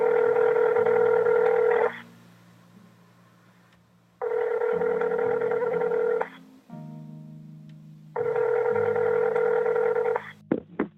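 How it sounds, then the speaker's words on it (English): A telephone call being placed: three long, loud ring tones separated by pauses of quiet line hiss, with a few short clicks and tone blips toward the end, no voices. "So I picked up the phone and called her number"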